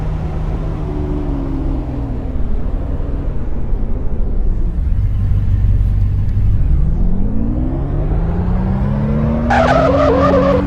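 A Mazda RX8 slides and crashes with a loud, sustained tire skid and squeal, its engine note rising and falling underneath, then a sharp burst of noise near the end as the car hits.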